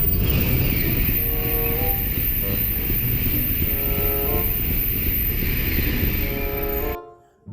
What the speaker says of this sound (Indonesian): yang ini adalah kereta api super cepat